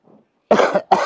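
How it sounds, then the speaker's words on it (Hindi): Two sharp coughs close to the microphone, one right after the other, preceded by a faint breath. "और माँ खांसी तो तन्ने भी आने लग रही है"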